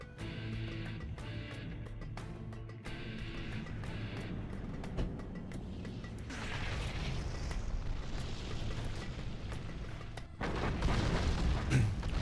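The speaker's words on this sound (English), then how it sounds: "We've got artillery coming across for GoIsUber. Going to probably hit this supply, it looks like." In Generals Zero Hour, artillery shells hit a supply area, producing rumbling booms and bursts over a steady battle din that swells louder near the end.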